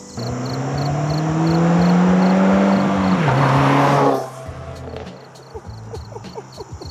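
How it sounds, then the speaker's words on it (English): Subaru WRX fitted with a Remark 4-inch double-wall axleback exhaust roars past in a flyby, engine note climbing loud and close, peaking around four seconds, then cutting off abruptly to faint outdoor ambience with chirping insects. "Let's see how Kyle's car sounds on a nice little flyby here"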